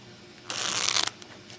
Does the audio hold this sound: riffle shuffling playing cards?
yes